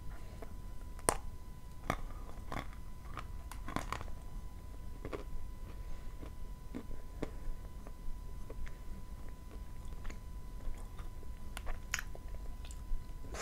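Crumbly gift treat, dense and slightly oily, bitten and chewed close up, giving a series of sharp crisp crunches and softer chewing sounds over a quiet background, with no talking.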